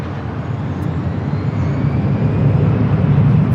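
An SAS airliner from Copenhagen arriving on runway 25 left at LAX, a steady loud jet engine roar that swells slightly as it passes.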